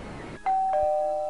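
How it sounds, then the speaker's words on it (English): A doorbell chime from the Nancy Drew game Stay Tuned for Danger rings out after a short stretch of background noise, its two clear, sustained tones ringing loudly and close. "Doorbell."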